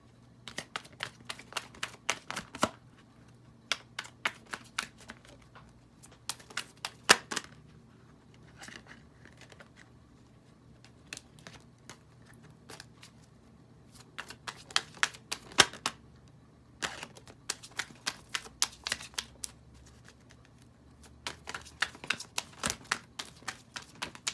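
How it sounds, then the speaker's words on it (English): Crystal oracle cards being shuffled in bursts of crisp, rapid riffling clicks, with short pauses between runs, close and fairly quiet, with no talking. "I'm going to pull a crystal card for you now."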